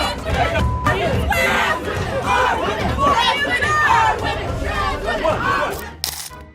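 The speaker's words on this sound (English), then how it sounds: "Surrounded by shouting activists" A dense crowd of activists shouting and chattering together at a street confrontation, a loud steady babble of overlapping voices with occasional raised cries, thinning out near the end.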